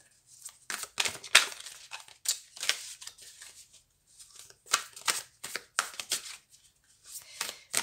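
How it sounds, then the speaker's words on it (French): A deck of cards being shuffled up close, with repeated crisp riffling bursts separated by short pauses and no talking. "on va remélanger."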